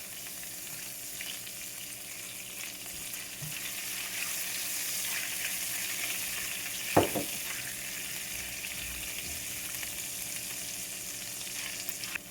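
Ingredients sautéing in a pan for a spaghetti dish, a steady close sizzle and frying hiss throughout with one sharp clink of a utensil midway and no talk.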